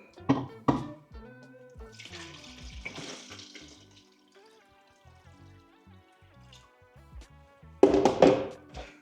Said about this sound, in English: fill the tank with new water.